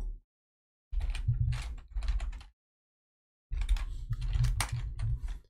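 Bursts of typing on a computer keyboard, quick clattering keystrokes in two short runs separated by silence, then a longer flurry, close and clear.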